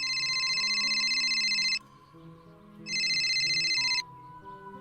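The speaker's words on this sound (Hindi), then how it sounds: "उतनी देर में उसका फोन बजा।" A phone gives two bursts of a bright electronic ringtone, each lasting about two seconds with a short pause between them. It rings alone, with no voices over it.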